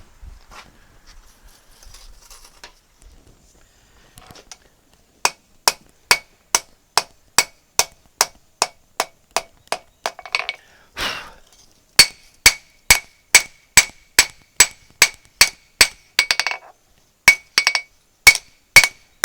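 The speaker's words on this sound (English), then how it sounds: "I hammer slow, really slow compared to some people" Slow, evenly spaced ringing hammer blows on hot steel at a forge, shaping a blade, bright clanging strikes in steady runs separated by short pauses, close and loud.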